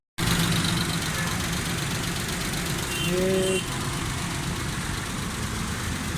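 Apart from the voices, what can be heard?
Suzuki Khyber pickup engine idling after start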